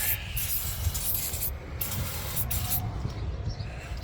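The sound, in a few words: releasing spray sprayed on brake disc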